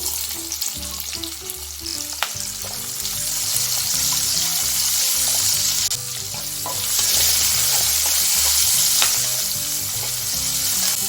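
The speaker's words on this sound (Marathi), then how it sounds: "आता आपण त्याच तेलामध्ये ग्रेव्हीचं सामान टाकून घेऊया सुरुवातीला दोन कट केलेले कांदे" Chopped onions frying in hot oil as the base for a dhaba-style dum aloo gravy, giving a loud, dense, continuous sizzle that swells midway, with steady background music underneath.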